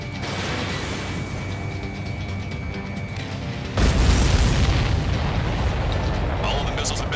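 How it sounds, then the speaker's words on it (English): Missiles being destroyed in Ace Combat 7 burst in a heavy, roaring explosion that cuts in abruptly over a steady jet-engine drone, then rumbles on loudly with crackling debris. "All of the missiles have been destroyed."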